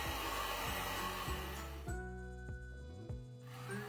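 A heat tool blowing hot air onto a small piece for a DIY western wall sign, a steady whooshing hum with a tonal whine that shifts pitch in stepped changes throughout.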